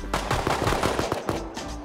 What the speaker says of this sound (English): Oh, he's getting shot at.